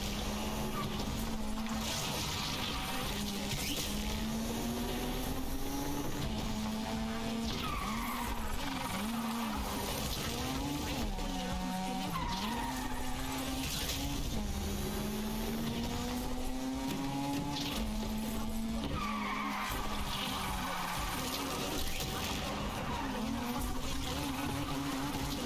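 Tires skid and screech as a car drifts in Need for Speed Unbound at a drift event, a long, loud run of squeals rising and falling over a steady engine roar.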